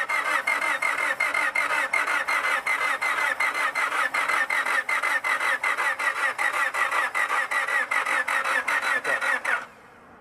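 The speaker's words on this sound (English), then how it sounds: "Crank the engine, and as you're cranking it, you spray it." A Honda Civic that will not start cranks continuously for about ten seconds, a loud, even rapid churning of the starter turning the engine over without catching, then stops abruptly.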